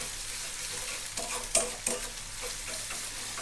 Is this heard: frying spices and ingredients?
yes